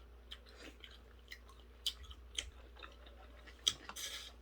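Quiet, close chewing of shrimp during a lobster tail mukbang, soft wet bites and crunches at irregular intervals over a faint hum, with no talk.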